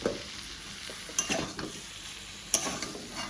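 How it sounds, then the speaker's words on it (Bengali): Eggs fry with spices and potatoes in a pan, a steady close sizzle broken by a few sharp scraping stirs and clinks of a spatula, with no speech. "ডিমগুলো দিয়ে দিই এখন একটু ভেজে নিয়ে তারপরে জল দিয়ে দেবো"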